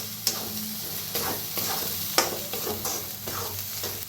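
A ground coconut and peanut masala paste roasts in a pan, a continuous sizzle broken by rhythmic spatula scrapes and a few sharp clacks against the pan, close and moderately loud, with no speech.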